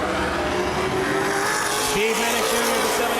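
Late model stock cars roar around Baer Field Speedway in a feature race, engines droning loud and close with a rising, wavering pitch as cars run side by side, under a race announcer's commentary.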